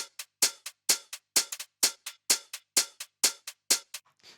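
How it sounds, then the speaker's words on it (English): More open hi-hat in a funky minimal deep house track in Ableton, a rhythmic pattern of bright hits with slightly longer sizzling tails and quick doubled ticks, steady and alone. "you can hear that the hat's a lot more open"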